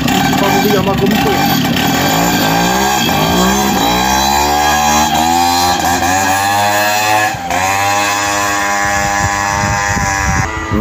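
Moped two-stroke engines rev loudly and continuously during a six-hour endurance race final in a rural field, pitch sweeping up and down through repeated gear and throttle changes, with crowd voices and commentary mixed in.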